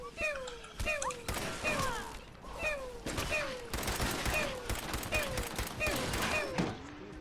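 Bursts of gunfire from the video game Fallout 4 crack out in repeated volleys over about seven seconds, with falling wailing cries between the shots.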